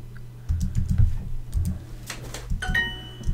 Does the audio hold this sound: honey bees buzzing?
no